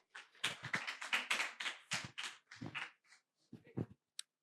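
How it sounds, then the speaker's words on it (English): Scattered clapping from a small audience at a corporate celebration event, a few hands tapping out uneven bursts that thin out toward the end, fairly faint and distant. "Can we give her a round of applause?"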